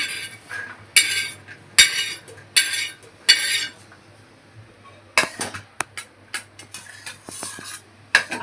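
Roasted eggplant being moved onto a plate, with a series of sharp metallic clinks and scrapes of a utensil against the plate, irregular and close, with no talking.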